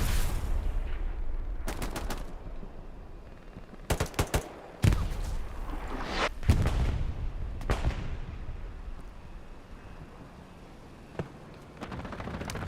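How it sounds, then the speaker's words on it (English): Airstrike strafe run in the World War II shooter Hell Let Loose, Hurtgen Forest map: scattered sharp bursts of gunfire and booming impacts, some close and loud, others distant, over a constant low battlefield rumble. "Strafe run goes through"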